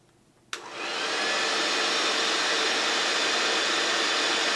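A hair dryer switches on with a click and quickly ramps up to a loud, steady rushing whoosh of blown air, held constant nearby with no speech.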